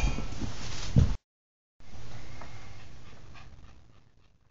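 A small Maltese dog pants in quick, shallow breaths, close by, after a brief moment of silence; the panting fades gradually toward the end.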